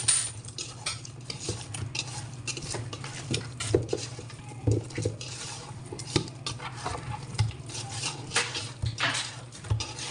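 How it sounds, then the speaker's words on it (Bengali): Cow trotters being mixed with spices by hand in a home kitchen, with wet squelching and knocks against a metal bowl, intermittent clinks of utensils and a faint low hum underneath. "এখন আমি সুন্দর করে মেখে নেব মশলা দিয়ে"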